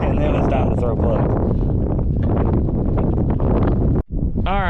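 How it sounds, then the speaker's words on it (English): Strong 20 mph wind buffets the microphone out on the water while fishing for speckled trout, a loud continuous roar with a brief dropout near the end, and a voice talking beneath it. "the wind is blowing 20 miles an hour"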